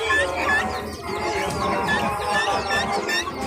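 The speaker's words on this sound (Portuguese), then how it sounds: "Pegando a galinha." Chickens cluck continuously at a busy poultry market in Caruaru, Pernambuco, with overlapping bird calls over a steady murmur of crowd noise.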